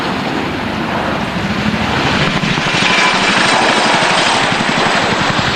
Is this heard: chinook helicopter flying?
yes